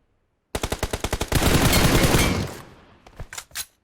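Automatic gunfire in the mobile battle royale game PUBG Mobile: a rapid run of separate shots quickening into a dense, loud burst, then fading into a few scattered final shots.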